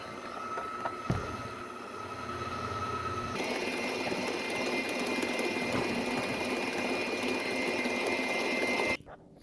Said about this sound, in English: We're going to blend that for about 7 to 8 minutes.